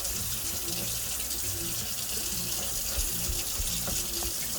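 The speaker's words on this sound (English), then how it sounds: "whenever you're washing vegetables, you always want to use cold water" Cold tap water runs steadily into a sink while vegetables are washed beneath it, a continuous close hiss and splash with a few faint clinks, no voices.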